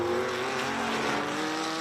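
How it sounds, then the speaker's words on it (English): Race cars, including historic Formula 1 machines, roar past at the Adelaide Motorsport Festival, a loud continuous engine drone with rising revs and the wash of passing cars. "the cars continue to come around"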